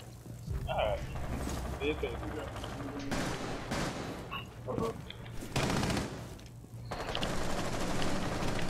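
Gunfire in the tactical shooter Rainbow Six Siege, with bursts of automatic fire and single shots over steady game noise while players talk over comms.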